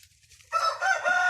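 A rooster crows loudly and close by, a single call that starts about halfway through and carries to the end, with only faint background before it and no talking.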